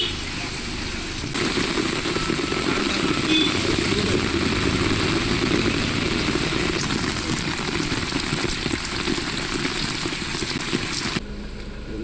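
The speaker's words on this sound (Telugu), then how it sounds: "బాగా వర్షంగా ఉందండి" Heavy rain falls steadily and close by during an outdoor pension distribution in Denduluru, a dense broadband hiss that holds constant for about ten seconds before easing slightly at the end.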